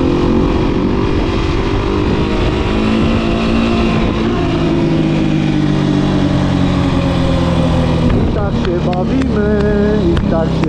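A large motorcycle engine runs loud and steady at low speed in fourth gear during a wheelie, its droning harmonics holding close throughout, with a shift in pitch and some talk near the end.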